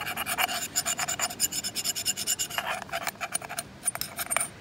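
A small brush scrubbing debris out of a Tohatsu 9.8hp outboard carburetor bowl, making quick, rhythmic scratchy strokes close up with a faint background hiss.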